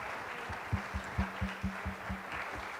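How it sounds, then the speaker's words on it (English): Audience clapping at the LMP International Awards 2023 ceremony, a fairly quiet, loose patter of individual claps with a few louder hits, fading in and out. "big round of applause, please"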